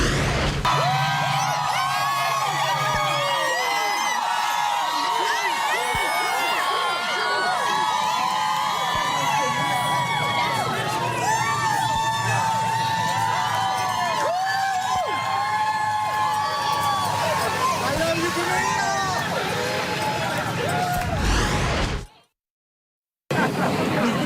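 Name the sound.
crowd cheering outside court after Johnny Depp verdict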